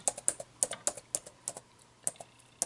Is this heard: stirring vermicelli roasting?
no